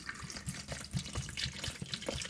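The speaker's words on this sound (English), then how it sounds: "Now I'm just going in with water." Water is poured into a blender jar holding avocado, making a close, steady splashing and gurgling trickle with a bubbly, repeating rhythm throughout.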